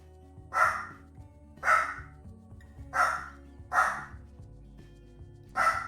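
A house dog barks five times in a slow, steady series, each woof sharp and moderately loud, spaced about a second apart over quiet room hum with no speech.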